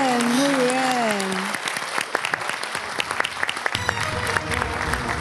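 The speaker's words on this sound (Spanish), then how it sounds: "Mirá el aplauso, mirá" A voice speaks briefly, then the studio audience of the game show Who Wants to Be a Millionaire breaks into steady applause, many hands clapping close and continuously.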